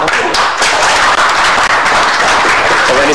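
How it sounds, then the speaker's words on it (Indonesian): Loud, dense clapping from a television talk-show studio audience for guest Prabowo Subianto fills the clip as a steady, unbroken wash of hand claps. "Boleh tepuk tangan?"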